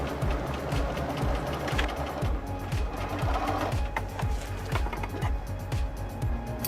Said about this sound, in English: I'm going to sew here, open for the tail,